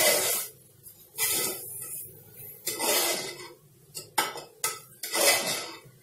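A spoon stirs carrot halwa with milk and sugar in a metal pressure cooker, scraping and clinking in uneven bursts with short pauses between strokes, close and clear, no talking.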